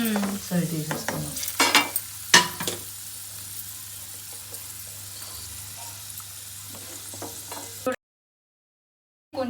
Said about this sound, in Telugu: చూడండి మంచిగా ఫ్రై అవుతున్నాయి కదా.